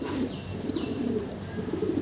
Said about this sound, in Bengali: ড্যানিশ কবুতর দেখেন একটু ক্লোজ যদি ঠোঁটগুলো দেখাই